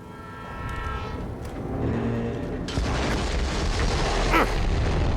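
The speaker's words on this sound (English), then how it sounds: "Now the Vault Hunter needed to find out where that train was going." Train in the video game Borderlands 3, Bounty of Blood DLC, rumbling loudly with low heavy rolling noise that builds and stays dense throughout, a brief horn-like tone near the start.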